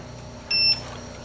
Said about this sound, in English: Get an ohm meter, you stick it on the audible setting on the ohm settings, and you touch it across these little ports on the back of a fuse. And if you hear a beep